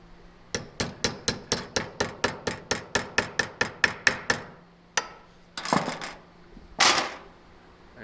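A rapid series of about sixteen evenly spaced hammer blows on a metal bracket being bent in a vise, followed by a pause and a few heavier, scraping strikes.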